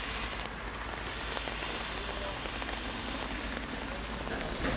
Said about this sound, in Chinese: 即係落大雨喎